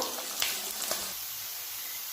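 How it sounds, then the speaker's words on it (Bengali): Onions sizzle in hot oil left in the pan after pomfret fish were fried, a steady broadband hiss with a couple of stirring clicks near the start, easing slightly toward the end, with no talking. "পেঁয়াজগুলো আমি লাল লাল করে একটু ভেজে নেব।"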